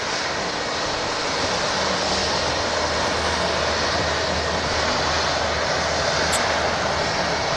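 A Jet2 Boeing 757 airliner at Manchester Airport roars steadily and loudly with broadband jet engine noise and a low rumble, continuous and unbroken throughout.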